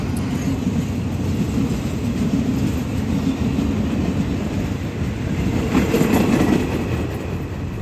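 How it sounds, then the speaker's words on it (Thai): A special military train hauled by GE locomotive 4025 passes on the Thai line from Bang Sue Junction to Ban Pa Wai, a loud, steady rolling rumble with wheel clatter that swells slightly near the end, with no voices. "Special Military Train Number 2307 from บางซื่อจังชันถึงบ้านป่าหวาย"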